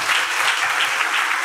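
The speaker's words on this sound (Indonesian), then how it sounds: "Tepuk tangan dong buat Matthew." Audience applause at a university student orientation session, a brief, even wash of many hands clapping, fairly loud and without talk over it.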